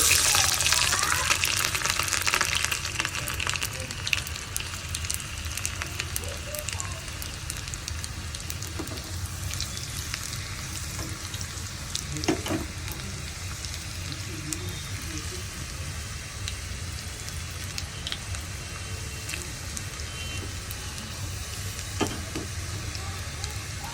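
Tempering of cumin, mustard seeds and garlic sizzling in a pan for perugu charu, a loud burst of frying at first that settles into continuous crackle with occasional pops and stirring, with some speech.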